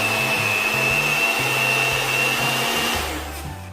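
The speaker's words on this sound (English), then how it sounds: "I'm going to mix my butter with my machine" An electric mixer whirs steadily while mixing butter for a vanilla cake, a loud continuous motor drone with a high whine and small pitch shifts as the load changes, then the sound eases off near the end, with no voices.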